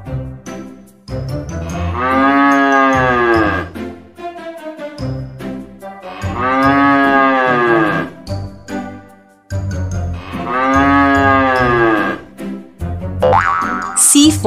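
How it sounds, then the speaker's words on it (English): A cow gives three long, loud, drawn-out moos, each lasting a few seconds and separated by short pauses. "C for cow."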